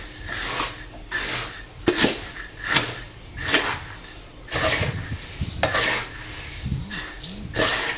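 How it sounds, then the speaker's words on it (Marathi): A plate stirs puffed-rice bhadang in a pan, producing repeated rattling sweeps and metallic scrapes at an uneven rhythm, close and fairly loud, with no speech. "आता मी हा प्लेटने सगळीसारखं हलवून घेणार आहे"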